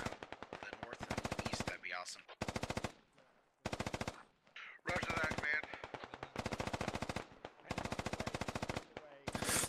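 Machine-gun bursts rattle in rapid, loud volleys in the online shooter Operation Tarantula Hawk, with short pauses between them and a few quieter shots mixed in.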